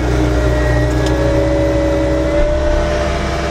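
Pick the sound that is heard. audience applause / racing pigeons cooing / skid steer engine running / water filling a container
skid steer engine running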